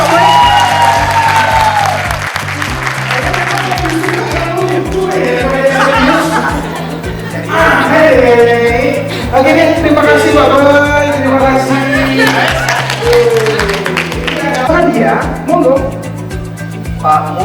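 An audience claps and cheers for Pak Boy at a company product soft launch event, with sustained applause and scattered whoops over loud background music throughout.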